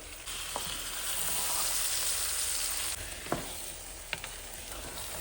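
Gongura sorrel leaves fry in hot oil with a bright, steady sizzle that softens partway through, with a few sharp clicks from stirring and no speech.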